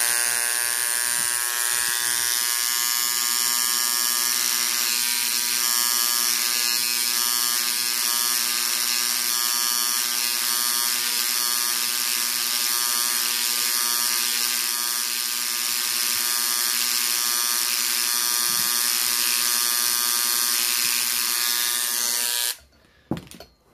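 An electric engraver writes a word on a chain link, giving a loud, continuous buzzing whine with a faint rattle for over twenty seconds, then stopping abruptly, followed by a few clicks.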